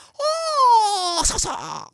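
A voice imitates a yawn: a long, drawn-out groan that slides downward in pitch, then trails off into a breathy exhale.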